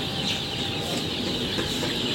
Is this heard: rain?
no